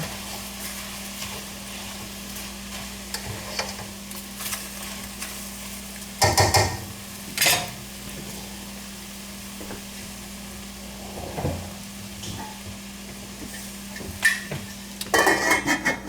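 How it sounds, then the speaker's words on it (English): Tomatoes and coriander being folded into scrambled tofu in a pan over lowered heat, a soft continuous sizzle broken by scattered spatula scrapes and clinks against the pan, no talking. "Turn the heat down and just fold that through."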